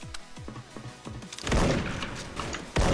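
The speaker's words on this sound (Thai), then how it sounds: "ใครได้ยินเสียงปืนนี่ผมผวาไปหมด" Gunfire in the Special Force shooting video game: several sharp shots early on, then a denser, louder burst of fire and impacts, ending in one heavy blast.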